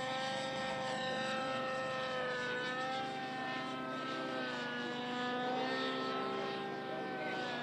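A radio-controlled 3D helicopter flies a death dive manoeuvre at a 3D championship set-manoeuvres round, its rotor and motor whine holding steady and loud with pitch sweeps that rise and fall throughout.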